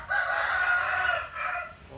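A green-legged rooster with rich plumage crows once in a long, loud, close call lasting over a second, with a softer tail, while rain falls.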